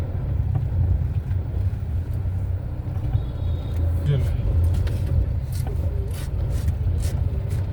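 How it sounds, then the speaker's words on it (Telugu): A car driving slowly through town traffic in Bhimavaram, with a steady low engine and road rumble close by and faint voice-like sounds appearing briefly over it. "కొంచెం ట్రాఫిక్ వల్ల స్లోగా వెళ్ళాల్సి వస్తుంది."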